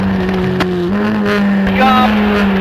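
Skip Barber race cars at Lime Rock wind through the serpentine, engines droning loud and near with rising and shifting pitch as they accelerate through the wiggles.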